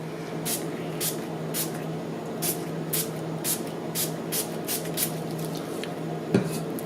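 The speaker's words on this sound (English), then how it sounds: "I'm just going to spray the top of this with the rubbing alcohol" A rapid series of short, sharp spritzes of rubbing alcohol from a spray bottle onto melt-and-pour soap, about a dozen quick pumps in an uneven rhythm, close and fairly quiet.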